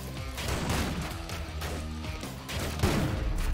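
Enemy gunfire in the video game ScourgeBringer: a dense burst of loud, crackling shots and impact blasts with heavy low rumble, continuing in clustered volleys, with no talk.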